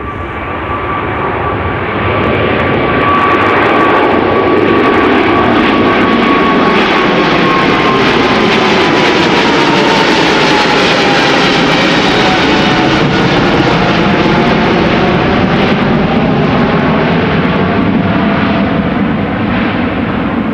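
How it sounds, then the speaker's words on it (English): A KLM Boeing 777-300 jet on the Kaagbaan runway at Amsterdam Schiphol roars loudly and steadily for about twenty seconds, swelling in over the first couple of seconds, with a sweeping whine shifting pitch as it passes. "this is KLM flight 565 to Nairobi. 777-300"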